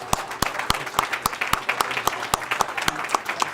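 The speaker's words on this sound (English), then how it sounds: "Let's give them all a big round of applause." Audience applause at a city council meeting, a modest group clapping steadily with distinct individual hand claps standing out in a roughly regular rhythm, fairly close in a room.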